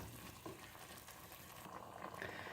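Vegetables and water being stirred in a pot for veg biryani, giving a faint, continuous soft swishing and liquid churning with light scraping, quiet and close.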